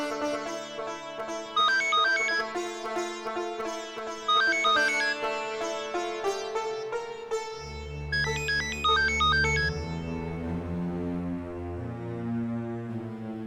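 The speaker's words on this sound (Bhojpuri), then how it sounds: "केकर फोन बा?" A mobile phone ringtone plays a bright, repeating electronic melody for the whole stretch, with deep sustained musical tones joining midway, loud and steady with no voices.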